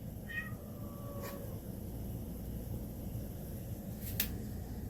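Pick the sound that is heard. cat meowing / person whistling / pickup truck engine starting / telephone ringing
cat meowing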